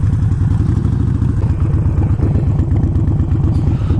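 A Harley Davidson motorcycle fitted with a Screamin Eagle Pro Tuner runs close by, its loud, low engine rumble thumping in a rapid, uneven pulse with a rattly clatter over it, steady for the whole stretch.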